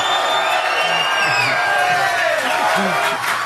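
A church congregation at a Sabbath service cheers and whoops loudly, a dense, sustained roar of many voices with rising shouts and calls close by, while a voice speaks over it.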